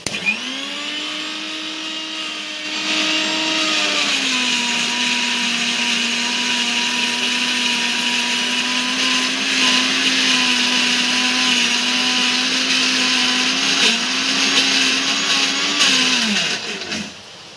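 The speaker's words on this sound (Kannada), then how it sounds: "ಈ ಥರ ನೀರು ಹಾಕ್ಕೊಂಡು ಈ ಥರ ಇನ್ನೊಂದು ಸ್ವಲ್ಪ ಮಿಕ್ಸಿಗೆ ಹಾಕ್ಕೊಳ್ಳೋಣ" A mixer grinder runs loud and steady for the full stretch, its motor whine shifting pitch slightly as it churns a citron paste with water, then winds down at the end.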